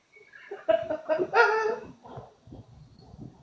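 A small Morkie dog whimpers close by in a string of high, thin, wavering whines that rise and then trail off into softer snuffly whimpers.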